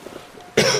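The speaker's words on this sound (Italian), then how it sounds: "Già hai la tosse, poi ti strozzi pure col tè." One person coughs sharply once after choking on tea, a short harsh burst following a quiet moment.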